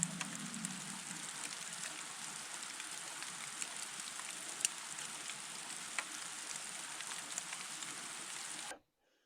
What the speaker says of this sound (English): Snow's good, sleet not so much.